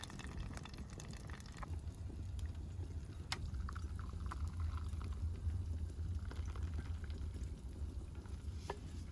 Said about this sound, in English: I'm going to put some veg oil in the billy can and then bring that up to temperature, and then we'll drop the potatoes in.